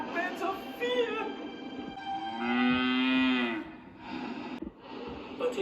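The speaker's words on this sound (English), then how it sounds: "But it was just a cow in the field." A cow moos in a field, one long, loud, drawn-out low call in the middle with fainter lowing and background noise around it.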